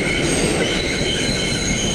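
A video game subway train rumbles steadily along the rails with a broad roar and a high squeal running throughout, loud and continuous.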